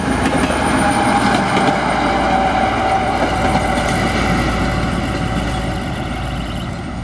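A D1 diesel multiple unit train, its engine uprated to 800 horsepower, runs with a steady, loud broadband drone and engine hum that holds throughout, fading slightly toward the end.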